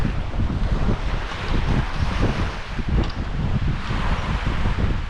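Wind blowing outdoors by the sea, gusting in loud, uneven bursts against the microphone, with a faint wash of surf underneath and no voices.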